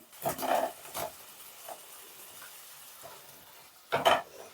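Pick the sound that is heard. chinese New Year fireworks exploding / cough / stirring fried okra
stirring fried okra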